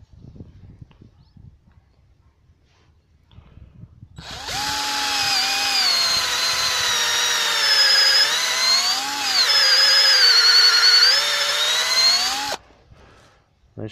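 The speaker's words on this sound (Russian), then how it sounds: "просверлили отверстие" A power drill bores a hole into a birch tree for sap collection, whining loudly and steadily for about eight seconds with slight pitch wobbles, preceded and followed by quiet outdoor handling noises.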